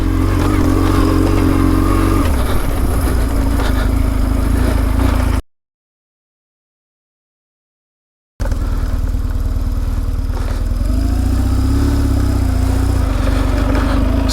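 A BMW R1150 GS motorcycle engine drones loudly and steadily while riding off-road, broken by a brief total silence before the same engine noise resumes.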